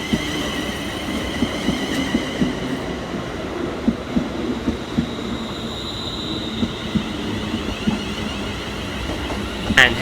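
Scotrail Class 380 electric train arriving at Paisley Gilmour Street station, steady rumbling wheels and rhythmic rail clicks with faint squeal, sustained and fairly loud throughout, no talk.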